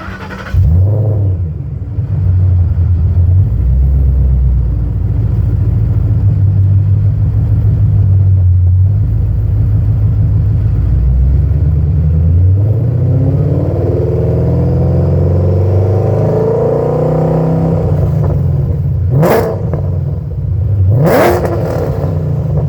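A street-driven Ford Mustang with an automatic transmission, mono blade, stage 3 cams and a 2C converter idles at a traffic light. Its lumpy, loud exhaust rumble stays steady throughout, with brief sharper whirs near the end.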